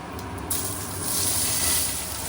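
Onions drop into hot oil in a pan and a steady, fairly loud sizzle starts within the first half second, then holds with no talking.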